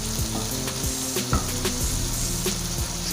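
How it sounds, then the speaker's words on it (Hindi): Chicken frying in a karahi with ginger, garlic and green chili for white chicken karahi, a constant sizzle with a low kitchen hum and repeated scraping strokes of a spoon stirring the pan, no voices. "चिकन हमारा बहुत अच्छे से फ्राई हो चुका है।"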